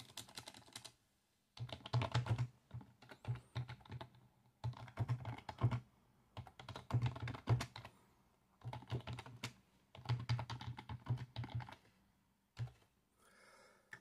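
Bursts of rapid typing on a computer keyboard while editing text, with short pauses between clusters of keystrokes and occasional heavier key thumps, close and fairly quiet.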